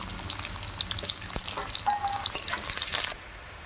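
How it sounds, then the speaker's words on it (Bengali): Nigella seeds and then onion hit hot mustard oil in a home kitchen pan, giving a bright, crackling sizzle with small pops that runs steadily for about three seconds before dropping away abruptly. "তেল গরম হয়ে গেছে, এবার দিয়ে দেবো কালো জিরা ফোড়নে, তারপর দেবো পেঁয়াজ"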